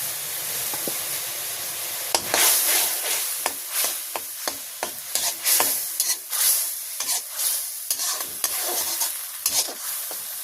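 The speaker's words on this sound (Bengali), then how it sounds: "আমি এখন এর ভিতরে মশলাটা কষাই নেব" A ground spice paste of cumin, coriander and green chilli sizzles in a hot pan while being stirred, with close, steady frying hiss and frequent scraping strokes, and no talking.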